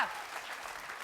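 A short burst of audience applause, steady dense clapping from a crowd at a comedy stage show, fairly loud for the whole second.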